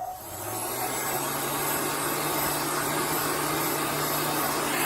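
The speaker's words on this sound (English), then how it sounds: "So I'm using a heat gun." A heat gun blows a steady, close whooshing hiss while drying chalk paste, constant and uninterrupted.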